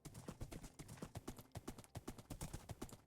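Quiet, steady clip-clop of horse hooves in a video game at an even trotting pace, each footfall crisp and evenly spaced.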